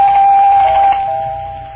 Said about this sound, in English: when the breakfast chimes sound in your house